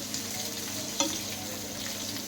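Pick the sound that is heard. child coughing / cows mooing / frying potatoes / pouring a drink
frying potatoes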